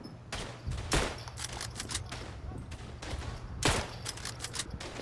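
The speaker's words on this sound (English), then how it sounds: "Relentless German fire down on me there." Relentless German gunfire in the World War I shooter Verdun, repeated sharp rifle and machine-gun cracks over a rumbling battlefield din, moderately loud and steady.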